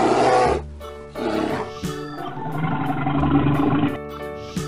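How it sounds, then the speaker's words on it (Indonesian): A white polar bear roaring, deep drawn-out roars repeated in several bursts with tonal, harmonic growling between them, loud and close with no talk over it. "Lihat teman-teman, ada beruang kutub warna putih teman-teman."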